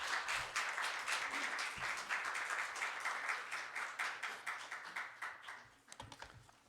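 A church congregation at a Sunday afternoon service claps to welcome a pastor, a crisp, steady round of applause that gradually thins and fades toward the end.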